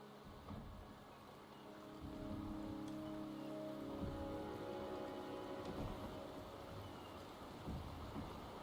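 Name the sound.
rain falling, from a video game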